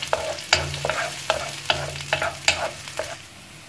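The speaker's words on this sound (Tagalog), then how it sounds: "Then, igisa lang po natin sila." Garlic and onion sautéing in a pan, with a soft sizzle under a series of rhythmic scraping stirs that come about every half second, close and fairly quiet.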